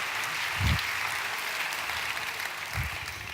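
A homemade mechanical applause machine produces a steady, thin clatter imitating clapping, continuous and fairly even at full speed, with a couple of low thumps from the mechanism.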